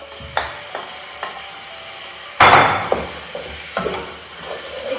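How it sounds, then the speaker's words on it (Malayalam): Chicken pieces dropped into a hot pan and sautéed for a homestyle chicken varattu, a sudden loud sizzle followed by scraping stirs and light clinks against the pan, close and with no talk. "ഈ ചിക്കൻ ഇതിലിട്ടിട്ട് ഇത് നന്നാക്കി വഴറ്റി കൊടുക്കണം."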